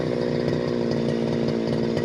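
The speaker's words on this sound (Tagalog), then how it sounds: "So, makapalo, kailangan mag-grass cutter ng maayos." A brush cutter engine drones steadily and loudly while cutting grass in a field being cleared for corn planting, with no voices.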